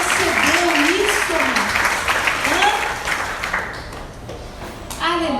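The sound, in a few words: church congregation applauding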